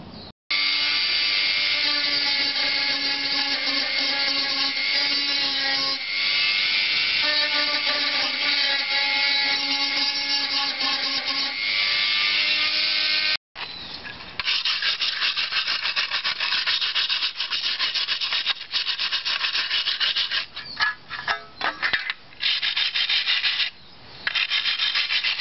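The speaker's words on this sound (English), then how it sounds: "get the Dremel and get the wire wheel and just tidy up this rust here and on the edge here" A Dremel rotary tool with a wire wheel scours rust from the cab of an Isuzu pickup, making a steady whining, rasping grind close up. It cuts out briefly partway through, then resumes with rougher, uneven scraping.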